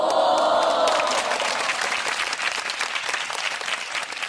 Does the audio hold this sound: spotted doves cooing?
no